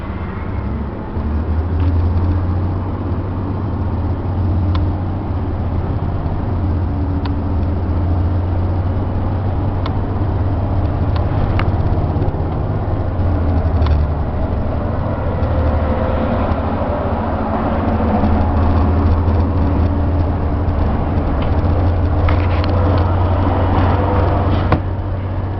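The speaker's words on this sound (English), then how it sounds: "I'm just going to go out on the highway for one exit." A Bluebird school bus drives steadily onto the highway with a low, constant engine drone and road rumble heard from inside the cabin, plus faint rattles and clicks, with no speech.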